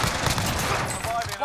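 A short burst of dense, rapid gunfire from the Call of Duty Warzone video game crackles steadily without pause.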